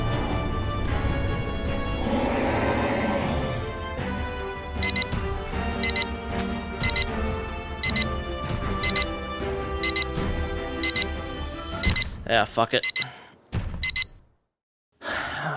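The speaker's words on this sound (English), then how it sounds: "You heard the alarm go off." An alarm clock goes off after an hour of playing Titan Souls, sounding loud, regular double beeps about once per second over game sounds, with a person muttering briefly before it stops.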